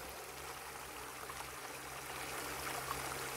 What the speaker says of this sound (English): This little extension's just a little 6-inch river sluice that I've got. But decent amount of flow.